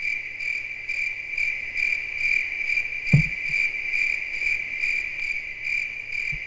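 Loud, steady cricket chirping from a Lunar 2 game soundtrack, a continuous high pulsing trill with one brief low thump partway through.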